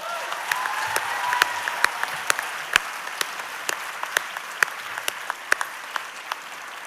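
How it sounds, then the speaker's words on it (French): Applause at an award ceremony for the MeToo Media prizes, a steady wash of many hands clapping with sharp individual claps standing out, moderately loud and sustained throughout with no talk over it. "Vous pouvez les applaudir."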